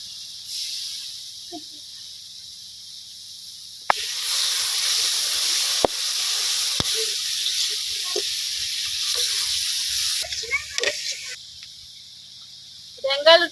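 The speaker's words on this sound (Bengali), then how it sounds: "ভেজে দিতেছি" Spice paste fries in hot oil in a pan with a broad, hissing sizzle that swells in, runs steadily for several seconds and then thins out, with occasional clinks and a voice speaking.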